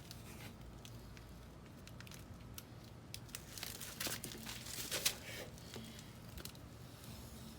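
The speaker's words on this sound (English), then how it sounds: "you can wrap this whole wheel in 1 piece of tape" Masking tape crinkles and crackles as it is wrapped around a car wheel for spray painting, a faint, steady rustle with a few sharper tearing snaps near the middle.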